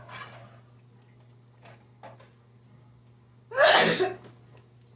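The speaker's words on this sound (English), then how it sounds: "Pepper made me sneeze." A single loud sneeze close by, set off by pepper while cooking, preceded by a few faint kitchen clicks and a soft breathy sound, over a steady low hum.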